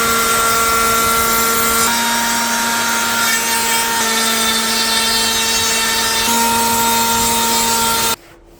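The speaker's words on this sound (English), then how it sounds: "I used router for cutting the grooves." A woodworking router cutting grooves in wood, a loud, steady high-pitched whine with a few slight pitch shifts as the load changes, running continuously before cutting off abruptly at the end.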